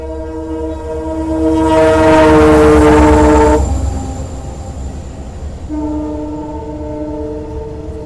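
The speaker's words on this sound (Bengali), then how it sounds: "মালগাড়ি" A freight train passes close by on the Howrah–Balurghat line. Its long harmonic horn blasts twice, loud and near, over a swelling, then fading rumble of wagons.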